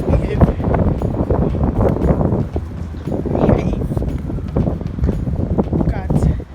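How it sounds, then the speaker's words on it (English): Strong wind buffets the microphone in Newcastle city centre, a loud continuous rumbling roar, with a person talking over it. "Oh no, this wind."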